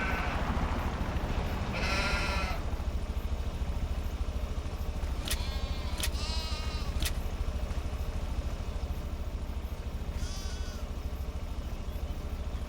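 Sheep bleating while a bale is brought to them on a farm, several distinct bleats scattered over a steady engine drone, moderately close with no talk.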